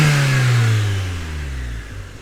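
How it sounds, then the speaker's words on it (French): A Mazda MX-5 NA's intake roars loudly up front as the engine revs, then the pitch slides down and the sound fades as the revs drop away. "le bruit, on entend surtout l'admission."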